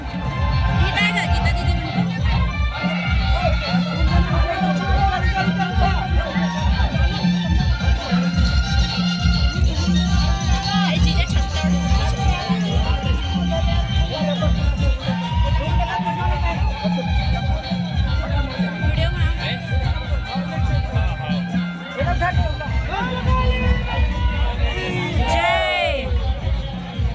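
A village crowd at a Jawara immersion procession fills the air with dense, continuous hubbub, many voices chattering and calling out at once over a steady rumble, with occasional whoops rising above the babble.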